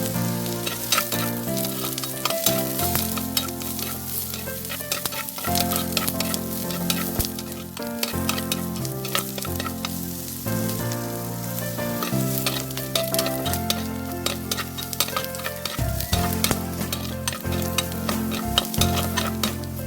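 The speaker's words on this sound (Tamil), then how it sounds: "இப்போது வெங்காயத்தை சேர்த்து நல்லா செவக்க வதக்கிடுவோம்." Onions sautéing in a pan for a quick egg rice lunch-box dish, giving a loud continuous sizzle and crackle with busy stirring and scraping throughout, close up and without speech.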